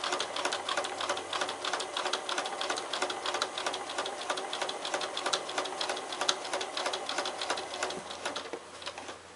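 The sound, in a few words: sewing machine stitching appliqué paw pads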